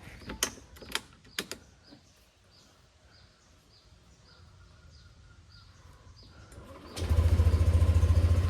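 A few clicks and light mechanical taps, then a Yamaha NMAX scooter engine kicks into life and idles loudly and steadily close by.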